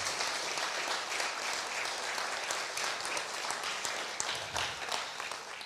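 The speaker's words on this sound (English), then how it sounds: "Can we give the team a round of applause?" A church congregation at a Sunday morning service applauds the team with dense, steady clapping that carries evenly throughout at a moderate level, with no speech over it.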